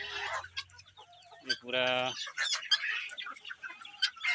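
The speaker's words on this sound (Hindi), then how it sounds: "यहाँ पर मेरे पास में गिनी फॉल का बच्चा है और कुछ देसी मुर्गियों का बच्चा है।" Guinea fowl chicks and desi chicken chicks, kept alongside a Kadaknath rooster, give a burst of near clucking and peeping between stretches of someone talking.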